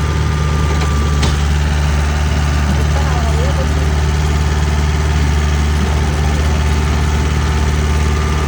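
Mahindra tractor engine idling steadily throughout, a continuous low, rumbling drone with a high faint whine layered on top, loud and close, with muffled voices in the background.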